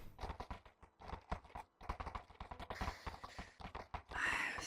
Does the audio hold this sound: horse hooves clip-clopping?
yes